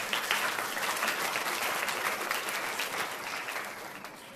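Audience applause at the launch of the short film 'Beti', a steady roar of many hands clapping, moderately distant, easing slightly toward the end.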